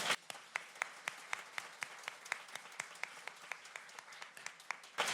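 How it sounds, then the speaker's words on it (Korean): A church congregation claps in blessing at a New Year's Eve worship service, a fairly sparse, moderate round of individual hand claps with distinct sharp hits, no talk over it. "우리 축복의 박수 드리도록 하겠습니다"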